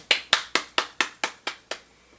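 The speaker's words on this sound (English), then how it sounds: "So let's give him a clap." Seven sharp, evenly spaced hand claps, close and crisp, each decaying quickly before the next, with the pace slowing slightly toward the end and nothing else in between.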